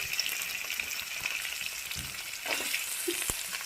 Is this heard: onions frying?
yes